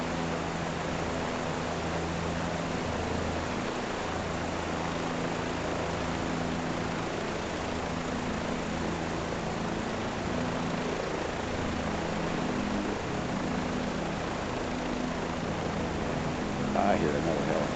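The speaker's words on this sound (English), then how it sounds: "I hear another helicopter." A helicopter drones continuously overhead, its low rotor thump steady and fairly distant, with a brief voice near the end.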